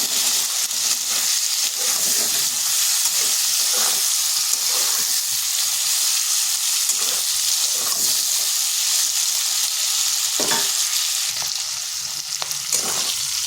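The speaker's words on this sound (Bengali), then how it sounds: "এরপর আঁচটা হাই আঁচে রেখে শিমগুলো একটু ভেজে নিতে হবে" Green beans with salt and a little turmeric frying in a pan over high heat, a loud, continuous sizzle and hiss with occasional stirring clinks, no talking.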